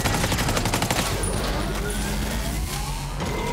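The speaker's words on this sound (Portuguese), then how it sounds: "Eu vou atirar nele." Heavy automatic gunfire from the Ghost Recon Breakpoint video game, dense rapid volleys that are loud and close, firing continuously throughout.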